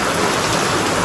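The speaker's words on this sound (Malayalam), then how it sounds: "നല്ല മഴയുണ്ട് പുറത്ത്" Heavy rain falling outside, a dense, even rush of broadband noise, loud and unbroken for the whole second.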